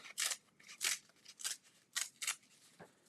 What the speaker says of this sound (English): I love ripping up boxes